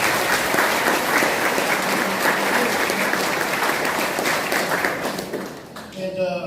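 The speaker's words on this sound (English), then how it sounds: "Let's give them a round of applause." Audience applause for the Batesville Community Center at a county sheriff's debate: a dense, steady wash of clapping from a room full of people that fades in the last second, where a voice begins talking.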